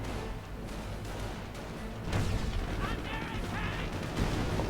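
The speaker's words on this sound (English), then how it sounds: "Lots of firing going on." Battle in Company of Heroes, 2v2 with Panthers advancing: dense overlapping gunfire and artillery booms, a constant rumbling barrage that grows louder midway, with scattered sharper cracks and faint talk beneath.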